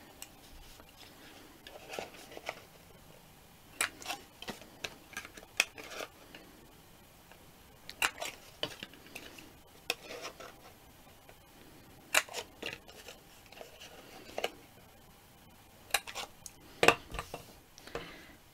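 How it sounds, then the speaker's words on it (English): A corner rounder clips the corners of thin paper flaps in crisp, sharp snaps, scattered and uneven in rhythm over about eighteen seconds, with faint handling rustle between them in a quiet room. "So you'll need your corner rounder."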